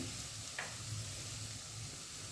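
Mixed vegetables fry in a pan with a steady, quiet sizzle and hiss, one faint tick near the start, and no voices.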